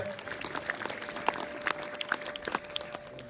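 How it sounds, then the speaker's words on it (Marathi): Applause from an audience welcoming dignitaries at a Rotary Club and coaching classes ceremony for 10th-standard students, faint and scattered, with a steady hum underneath. "सर्व मान्यवरांचं टाळ्या गजरामध्ये स्वागत करायचं"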